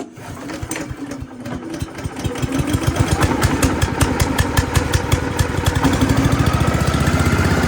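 A new Great Circle chipper shredder's small engine is pull-started, then sputters into a loud, close, rapid putter that steadies into continuous running, with a brief faint voice at the start.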